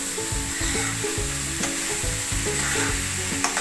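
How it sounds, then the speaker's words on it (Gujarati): Methi tomato curry sizzles and fries steadily in a pan, with a spoon scraping and stirring in a repeating rhythm throughout; close and continuous, with no talking. "હલાવી અને ધીમે તાપે ચડવા દેશું, અને ધીમે ધીમે આવી રીતે ચમચીથી હલાવતું રહેવાનું"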